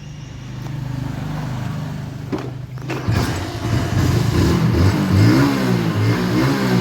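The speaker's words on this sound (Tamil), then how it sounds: "ஸோ ஃபைனலாக வீட்டிலேருந்து வண்டி எடுத்துகிட்டு கிளம்பியாச்சு" A vehicle engine idles steadily, then revs up loud and close as it pulls away from a house, its pitch rising and wavering as it accelerates, with no voices over it.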